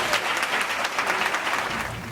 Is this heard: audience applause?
yes